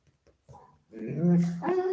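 A large dog weighing about 40 kilos whimpers and whines close by indoors, a rising high-pitched whine that swells and holds after a few soft sniffs and quiet sounds.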